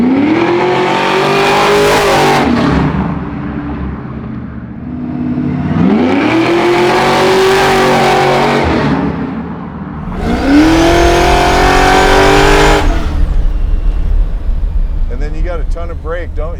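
A 750hp supercharged Chevy Nova pro-touring muscle car roars through three loud, close revving bursts with rising engine pitch and tire-spinning burnout noise, a brief lull between each, and a voice speaking near the end.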